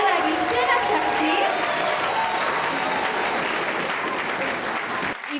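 A church audience at a Christmas celebration applauds loudly, a dense, steady wash of clapping that fills the space and fades slightly near the end, with voices mixed faintly beneath.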